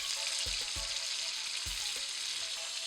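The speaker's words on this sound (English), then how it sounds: "You wanna hear that sizzle." Steady loud sizzling of steak frying in a hot pan, with a few soft low thumps and scrapes as it is pressed and moved.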